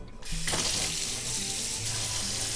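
A spatula rinsed under a running kitchen tap, steady loud water stream splashing after a brief start, continuous throughout.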